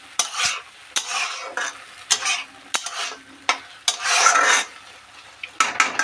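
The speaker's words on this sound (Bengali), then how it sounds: "এবার এর মধ্যে আমি ডিমটা অ্যাড করব দিয়ে ফের ঘেটে নেবো" A spoon stirring egg into a lentil mixture in a pan, with a rhythmic series of scraping, sizzling strokes and a few sharp clinks against the pan, close and alone.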